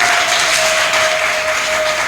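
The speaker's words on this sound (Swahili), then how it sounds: "Makofi mengi sana kweli." An audience at a live worship concert applauds in a dense, steady wash of clapping that fills the whole moment, with a faint sustained tone running underneath.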